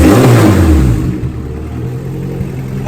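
Turbocharged Integra GSR B18C1 engine revving hard then dropping back to a lower whir and clatter, loud and close, with no talk.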